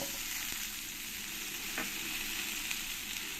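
Cut potatoes fry in oil with a steady, moderately faint sizzle and crackle that stays even and unbroken, with a few light pops and no voices.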